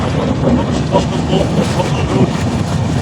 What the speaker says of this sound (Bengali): ট্রেনে করে ভ্রমণ করতে খুব ভালো লাগে